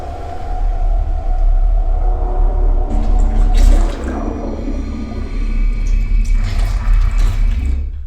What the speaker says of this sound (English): the rear speakers, you can hear the details, the droplets of water